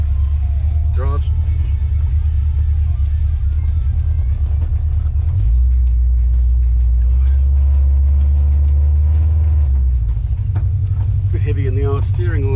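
A Holden Torana LX V8 pro street car drives along, its engine a deep, loud, continuous rumble that drops in pitch midway as it shifts or changes load, with someone talking over it.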